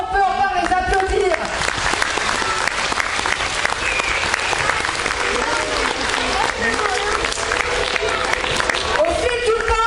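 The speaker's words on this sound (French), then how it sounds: "Je crois qu'on peut encore les applaudir." Loud, sustained applause from a large audience filling the whole stretch, steady clapping with a few cheers mixed in.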